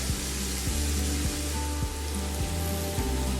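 Aromatics sizzle in a pan for Filipino beef giniling, a steady, close, dense frying hiss with no talk over it.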